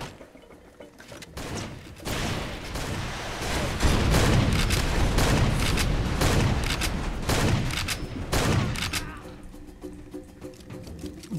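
Sustained gunfire and explosions in the jungle shooter Far Cry 2, a dense, loud barrage of overlapping shots and booms lasting several seconds before tapering off into quieter rumble.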